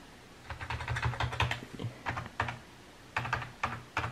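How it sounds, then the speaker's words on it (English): Bursts of computer keyboard typing, quick clattering key presses in uneven clusters with short pauses, close and fairly loud, on a keyboard that is not working. "let me try to hit the Windows key"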